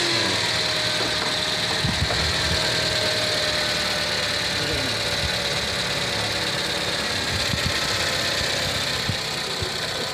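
A Toyota Vios engine idles steadily during a battery replacement, a constant close mechanical hum with faint vibration and occasional soft knocks, with no voices over it.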